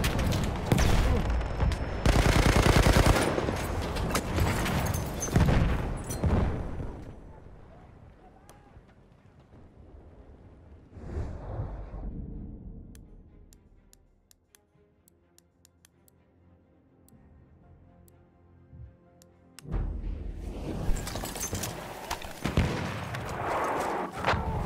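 An MG08/18 machine gun fires in a video game battle at Fort de Vaux, with loud rapid bursts at the start, a quieter stretch of scattered distant shots in the middle, and heavy bursts again at the end.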